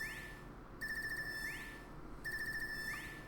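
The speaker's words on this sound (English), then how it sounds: "Oh, that is an annoying ringtone." Phone ringtone in the Trails of Cold Steel III video game: a repeating electronic warble in two bursts, each a steady trilling chime pattern over a faint background tone, moderately quiet and with no talking.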